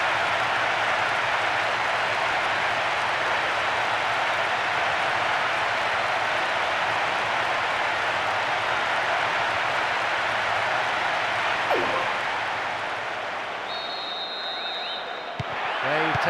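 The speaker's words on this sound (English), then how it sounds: "The stadium is shaking because they're jumping up and down and making so much noise." A large stadium crowd in PES 2009 roars continuously in a dense, steady wall of cheering after a goal, with a brief whistle-like tone near the end.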